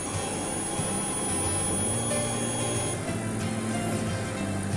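A mini laser cutting machine runs with a constant mechanical whine and steady humming drone, close and loud, without pauses.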